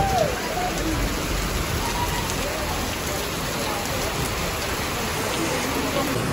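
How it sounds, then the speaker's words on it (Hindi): Heavy rain falls at a bus stop near Pathankot Cantonment as a dense, steady, broadband hiss that stays even and loud throughout. "बस भी आ गई और बारिश देखो कितनी"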